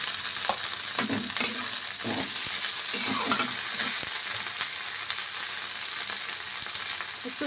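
Onions and sepu greens fry in a pan, a continuous close sizzle with scattered scraping and stirring clicks, no voices.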